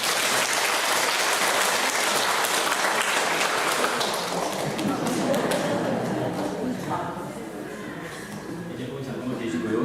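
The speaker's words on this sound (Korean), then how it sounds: "우리 박수 한번 해주시겠습니다." A church congregation claps steadily after an infant baptism during a Sunday service at a Korean Holiness church in Wonju. The dense applause fills the room and tapers slightly toward the end.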